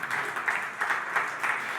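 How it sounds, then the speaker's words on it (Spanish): Audience applause at a podcast event, a short burst of steady clapping from a live crowd in a hall, moderately loud with no talk over it. "Eso sí que merece un aplauso."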